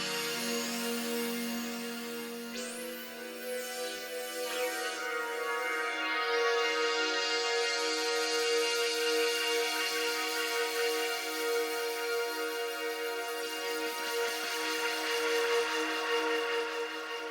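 Roland JX-3P analog polyphonic synthesizer with its Curtis filter plays a sustained, evolving pad. Filter sweeps rise and fall through the tone, which holds steady and fairly loud for the whole stretch with no voices.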